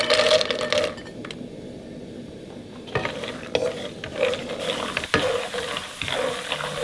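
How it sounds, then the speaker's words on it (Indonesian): Peanuts fry in a new Teflon pan, crackling and sizzling steadily up close while a utensil stirs and scrapes them around, with a few sharp clicks against the pan. "Pertama kita goreng kacang tanahnya dulu ya."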